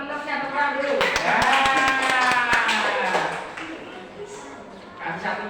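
Classmates clapping hands in a primary school classroom, a short burst of sharp, rhythmic claps in unison under children's chatter and singing voices, fading to talk afterward.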